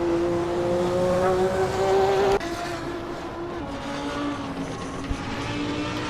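Race car engine in a Hot Wheels racing game, a loud whining tone that holds then cuts off abruptly partway through, leaving a lower engine hum with a brief click near the end.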